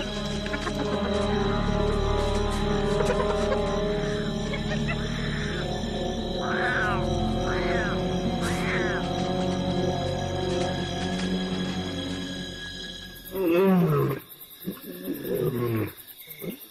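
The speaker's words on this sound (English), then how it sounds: "the lioness is calling for her pride" A lioness calls out for her pride in the wild, deep roaring moans rising and falling over a steady low hum, with a few louder calls near the end.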